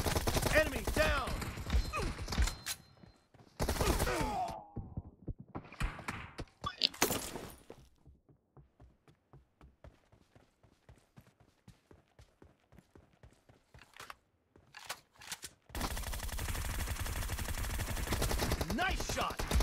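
Gunfire in the mobile battle-royale game PUBG Mobile: loud bursts of shots open and close the stretch, with sparse, rapid clicking shots in the quieter middle section.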